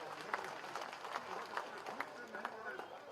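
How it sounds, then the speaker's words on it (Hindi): An audience claps in welcome for a guest at a thank-you gathering, the applause sustained and fairly distant with irregular sharper claps standing out, and a voice continues over it. "आप तालियां बजा करके स्वागत करिए।"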